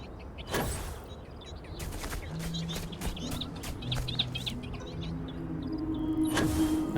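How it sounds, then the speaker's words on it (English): Birds chirp and call in an outdoor area of the space game Starfield, a mix of short tweets and clucking calls over a steady ambient bed, moderately close. "I could hear what sounds like birds chirping."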